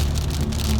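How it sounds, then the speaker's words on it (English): Torrential rain from a massive line of storms on the east side of Houston, a brief, loud, dense roar of rain hammering down with a low rumbling undertone. "Massive line of storms with torrential rain, frequent lightning, flash flood emergencies going on to my east and east-northeast"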